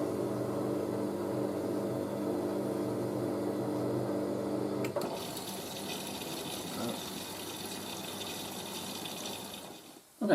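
A Miele W562 Prestige Plus 6 washing machine fills with water for the first rinse at a medium level during a 95°C whites cottons wash. A rushing inflow runs steadily, then changes abruptly midway to a softer, hissier trickle.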